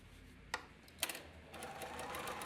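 A sewing machine top stitches a coin pocket onto jeans, starting with a couple of sharp clicks and then running in a steady, fairly quiet, close whirr.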